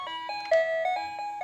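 A baby's pull-along toy plays a run of bright, bell-like chiming notes in a steady, doorbell-like pattern, clear and close with no talk over it.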